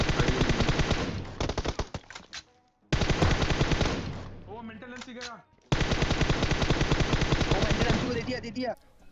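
Rapid gunfire bursts in the PUBG Mobile video game, three long loud volleys of fast shots separated by short gaps, with echoing tails.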